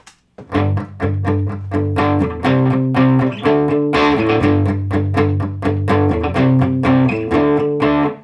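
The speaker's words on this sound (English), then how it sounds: "a basic 1-4-5 progression would sound like this" A distorted electric guitar strums chords through a basic 1-4-5 progression, loud and driving, with steady rhythmic strums and clear chord changes.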